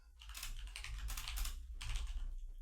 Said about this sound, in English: Like, what are you typing?